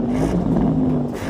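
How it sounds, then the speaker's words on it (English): A Porsche with the optional sports exhaust holds a steady, loud, deep engine drone over the whole short stretch, with no clear rise or fall in revs. "Go on, rev up the Porsche."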